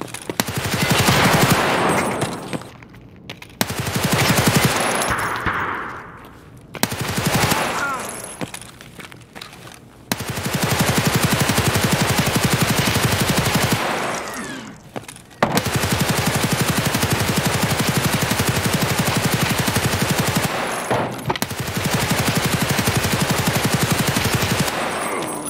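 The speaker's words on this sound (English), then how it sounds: "of this gun though is to stun lock Tagilla with the sheer firepower you will be sending his way" RPK machine gun firing in Escape From Tarkov, long loud sustained automatic bursts several seconds each with brief pauses between, close and dominant.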